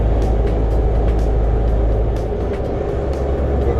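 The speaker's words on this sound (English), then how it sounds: "Drop from 12th to 11th gear." A Volvo VN 780 truck's XE13 engine drones steadily inside the cab, a deep constant rumble that dips briefly as it shifts down from 12th to 11th gear.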